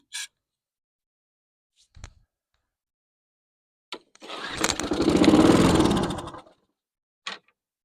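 A Snapper SPV mower with a Briggs & Stratton engine is pulled a few times with short clicks, then catches, roars briefly for about two seconds and sputters out, followed by one more short pull.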